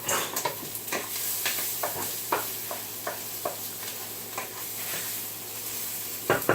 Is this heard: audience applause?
no